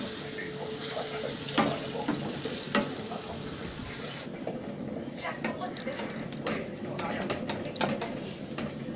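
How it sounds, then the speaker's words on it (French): Beef and celery sizzle gently in a pan over low heat as a utensil stirs them, giving a continuous soft crackle broken by frequent light clicks and scrapes. "On mélange et cela se fait à feu doux pour éviter que ça ne colle et que ça ne brûle."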